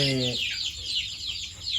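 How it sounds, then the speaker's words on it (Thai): Chicks and ducklings freshly hatched in an egg incubator give rapid, high, repeated peeping chirps close by, with a brief low harmonic call at the start. "เป็ดกับไก่ปนกันเนาะ"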